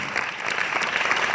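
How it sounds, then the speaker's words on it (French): A live audience at a show claps loudly and close, a thick patter of many hands that builds slightly toward the end. "On l'applaudit."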